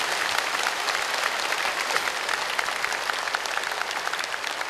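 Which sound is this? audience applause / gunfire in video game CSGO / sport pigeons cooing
audience applause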